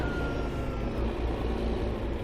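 A truck passes in traffic in the Farming Simulator 2015 game, giving a steady, loud engine drone with a low hum that holds evenly for the whole stretch.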